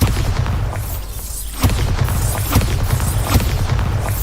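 Repeated Bombarda explosion spells in Hogwarts Legacy, a run of loud, heavy booms close together with deep rumbling blasts, one sharper hit partway through and no talking.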